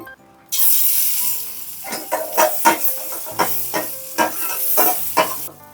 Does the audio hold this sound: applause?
no